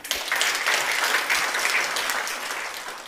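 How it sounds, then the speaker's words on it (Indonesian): Dense congregational applause during a church sermon, starting suddenly and holding strong before easing slightly toward the end. "Beri tepuk tangan"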